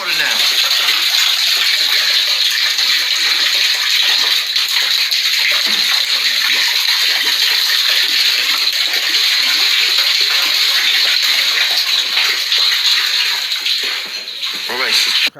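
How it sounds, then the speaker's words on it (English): Steady, loud rush of running water, continuous and close throughout, like a tub or tap gushing. "Listen to the water now."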